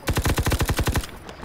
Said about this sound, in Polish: strzelamy, póki w magazynku kul starczy